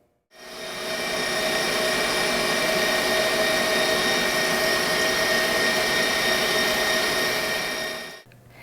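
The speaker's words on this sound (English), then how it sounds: "Now that I've been whipping my eggs and sugar for about 4 minutes, they've basically doubled in volume." An electric hand mixer runs steadily on high, whipping eggs and sugar for a gluten-free chocolate tahini brownie. It gives a loud, even whirring drone with a constant motor whine, starting abruptly and cutting off after about eight seconds.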